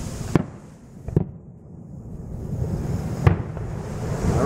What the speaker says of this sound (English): It's mostly just bottle rockets,